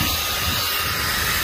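A high-velocity pet grooming dryer runs with a steady, high-pitched rushing whine of air, loud and constant throughout, with no voices.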